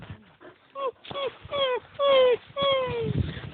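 A small dog whimpering close by, with a series of short, rising whiny yelps and soft snuffling breaths between them, clear and alone.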